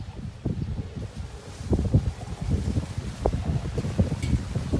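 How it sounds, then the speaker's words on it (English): Wind blows outdoors at a home garden, rumbling against the microphone in uneven, close, low buffeting gusts without any speech. "It's windy out here."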